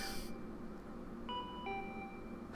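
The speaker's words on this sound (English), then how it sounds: "My body reacted reflexively as I heard the doorbell." A doorbell rings in the video game Danganronpa V3: Killing Harmony, a quiet two-note electronic chime sounding twice over a steady background hum, with no talk.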